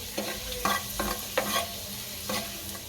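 Small garlic cloves fry in hot oil in a home kitchen pan, a soft steady sizzle broken by several short scraping stirs spread across a few seconds.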